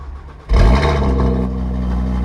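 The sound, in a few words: cold start of a stock RS car engine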